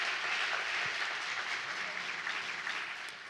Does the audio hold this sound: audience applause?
yes